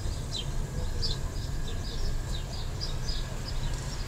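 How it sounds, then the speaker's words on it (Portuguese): Birds sing in a quiet rural town in Raposo, Rio de Janeiro, giving short high chirps repeated steadily over a constant low rumble of distant traffic and background hum. "Você consegue ouvir os pássaros cantando."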